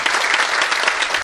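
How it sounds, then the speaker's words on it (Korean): A crowd at a Gyeongbuk education book concert breaks into loud, steady applause to welcome the hosts, dense and continuous before cutting off abruptly. "오늘 북 콘서트를 진행해 주실 김종식 교육감님과 처음 MC에 데뷔하는 김윤아 장학사를 힘찬 박수로 맞이해 주십시오"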